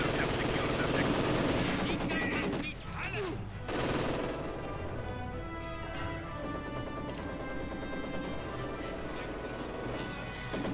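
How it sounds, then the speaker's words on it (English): Machine gun fire and other gunfire rattle through a Company of Heroes 2 battle, with dense crackling bursts and crashes layered under a continuous game soundscape. "Taking machine gun fire."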